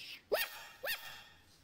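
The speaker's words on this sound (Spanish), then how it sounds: "No, Bartolito, eso es un perro." Two short, sharp dog barks about half a second apart, fairly close, with quiet in between.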